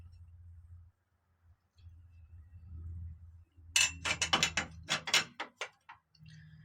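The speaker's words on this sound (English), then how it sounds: "Go ream it out." Metal clinks and scraping from reaming out bolt holes to enlarge them in a hardtop B-pillar for an American Machine Innovations grab handle, a quick burst of sharp, close metallic strikes following a low steady hum.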